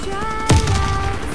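Gunfire in the Warface shooter game: a single sharp, loud shot with a low boom, then a short rumbling tail.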